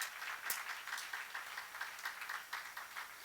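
Church congregation clapping together on cue during a sermon, a steady broadband patter of many hands with quicker rhythmic accents, filling the room at moderate level and fairly distant, with no talk over it.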